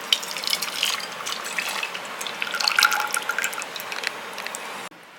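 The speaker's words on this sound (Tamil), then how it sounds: "இந்த பாலை தூக்கி இதில் ஊற்றிடுவோம்." Milk poured from a vessel into a pan while making Karthigai pori urundai, a steady close splashing pour lasting several seconds that ends abruptly.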